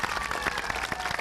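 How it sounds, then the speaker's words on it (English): An elementary school audience claps for a group of student steppers, a brief burst of fairly quiet, even applause. "So give them a round of applause."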